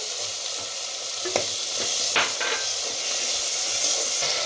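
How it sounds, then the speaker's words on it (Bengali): Onion, ginger and tomato purée fry in a pan under a steady hiss, broken by a few sharp spoon scrapes and clinks, close up and without talk. "নাড়ছি আমি এটা ভালো করে মেরে দিচ্ছি পেঁয়াজে আর আদার যে একটা আলাদা গন্ধ ওটা যেন না থাকে দিচ্ছি এই টমেটো পিউরিটা দিয়ে দিচ্ছি"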